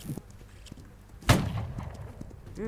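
One sharp, loud gunshot from a Roblox war game cracks out midway and quickly fades, with quieter scattered clicks and thumps before and after it.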